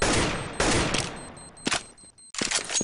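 Bursts of rapid gunfire in a Counter-Strike match, several loud volleys separated by short gaps, with faint game sounds between the shots.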